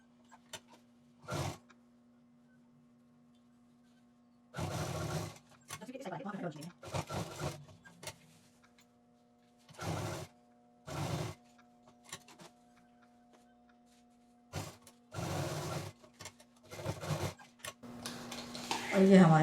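A sewing machine stitches tote bag fabric and lining in short whirring bursts separated by pauses, with a faint steady hum in between and occasional handling clicks.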